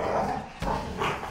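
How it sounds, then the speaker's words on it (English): Dogs barking inside a house, a couple of loud, close barks and yelps filling the short moment with no talking over them. "Dogs, they're in the house."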